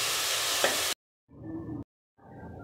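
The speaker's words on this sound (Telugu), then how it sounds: "ఇది గోల్డెన్ బౌన్ బ్రౌన్ కలర్ వచ్చేంత వరకు వేయించుకుందాం" Mushrooms fry in oil with a steady sizzling hiss, heard in three segments broken by sudden cuts to silence.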